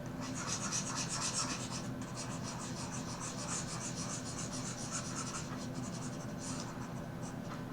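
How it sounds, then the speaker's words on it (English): Pen writing on paper during a tax lecture on income of residents and non-residents, a steady close scratching and rubbing that runs continuously without speech. "let me just make a little space to write further"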